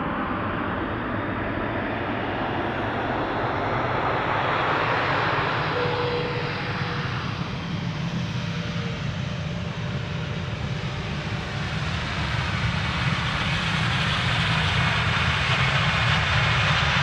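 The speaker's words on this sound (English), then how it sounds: "This is Finnair, flight 1301, arriving from bloody Helsinki." Finnair airliner on flight 1301 from Helsinki arriving at Amsterdam Schiphol Airport in wintry weather, a loud, sustained jet engine roar with a broad rushing hiss that holds steady throughout.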